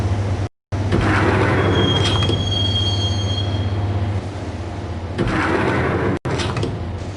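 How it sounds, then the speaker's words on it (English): Train carriage rumbling along the rails in the Max Payne video game, a steady loud roar with thin metallic wheel squeals drifting above, briefly cut by two short dropouts. "the train doors had already shut behind me, and I was in for the ride"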